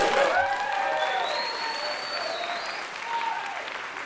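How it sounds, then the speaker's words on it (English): A concert audience applauds after a college symphonic and jazz band performance: dense, steady clapping that swells at the start and then slowly tapers off, with some crowd noise mixed in. "Is that applause for her?"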